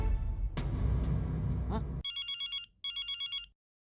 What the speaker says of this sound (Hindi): कांजी का ही फोन है, ले तू बात कर